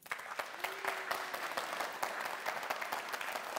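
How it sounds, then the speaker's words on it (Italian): A studio audience at a Neapolitan talent show breaks into sustained applause, a dense, even wash of many hands clapping at moderate distance, with a faint voice briefly audible early on. "Devo dire che prendi sempre un bel applauso"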